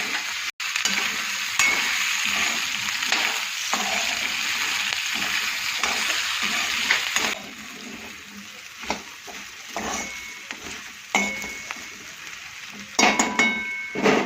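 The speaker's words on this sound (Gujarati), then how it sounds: "ચાલો બટાકા થોડા કૂક થાય તો હલાવતા રહીશું એને।" Diced potatoes for a Gujarati dry potato bhaji fry in a pan, a steady sizzle broken by repeated scraping stirs and light clinks of a spoon against the metal, close and clear with no talk.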